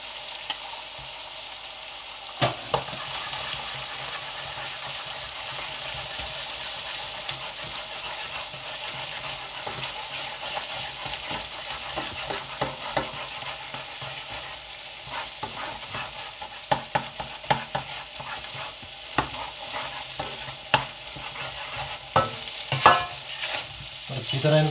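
Eggs with black pepper are mixed in a frying pan for kofta fried rice, heard as a low, steady sizzle under irregular scraping and tapping strokes of a utensil, close but fairly quiet, with no talking.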